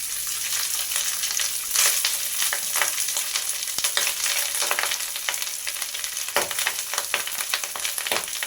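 Cooked rice frying in a pan over a low flame with fried cashews and raisins, giving a constant close sizzle broken by repeated scraping and stirring sounds.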